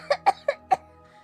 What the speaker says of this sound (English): Okay, now I'm gonna cough.